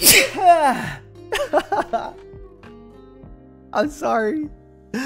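A sharp, loud sneeze bursts out at the start, then a person talks and apologizes over a soft game soundtrack.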